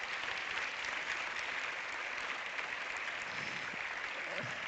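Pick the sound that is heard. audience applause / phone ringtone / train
audience applause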